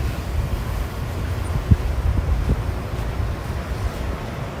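Steady wind rushes and buffets against the microphone on a Manhattan street the morning after a snowstorm, rising in gusts with a low rumbling roar throughout.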